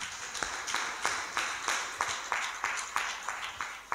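A church congregation at a Sunday service claps in unison to praise God, a quiet, steady run of about a dozen rhythmic claps with no voices.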